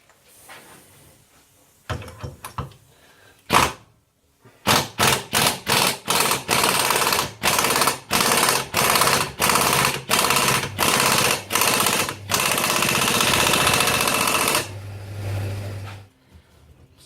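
Impact wrench in a series of about a dozen rapid, loud hammering bursts driving home the strut top nut on a Toyota MR2 front strut, preceded by a couple of short clunks and followed by a steady whirr before trailing off.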